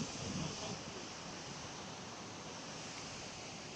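Broad, steady rushing water from a long-drop waterfall in Lesotho, a continuous dense roar that stays even and strong throughout with no pauses, slightly louder at the very start.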